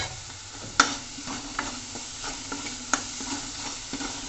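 A milk sweet cooks in a pan with a little ghee while a spatula stirs it, soft scraping strokes and a few sharp clinks over a gentle, steady sizzle, close and quiet with no talking.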